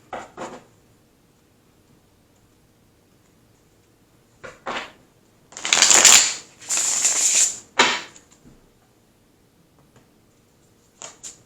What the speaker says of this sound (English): shuffling up the deck a bit.